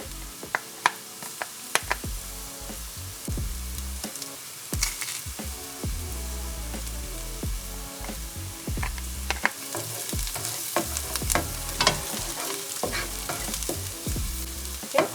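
Onion and garlic sautéing in a pan for a five-cheese lasagna sauce, a continuous loud sizzle punctuated by frequent utensil clacks and scraping stirs against the pan.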